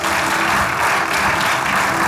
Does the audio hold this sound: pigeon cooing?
no